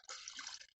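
Rinsed wet clothes being wrung out by hand at a van campsite, giving a short burst of splashing, trickling water that falls off abruptly after under a second.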